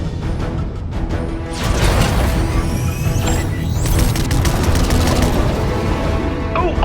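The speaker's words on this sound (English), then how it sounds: "I was hoping we'd have an excuse to try out the battle bus's laser cannons" Laser cannons on a battle bus fire at attack drones in a video game, giving a dense rattle of zaps, booms and crashes that sounds like combat throughout the clip.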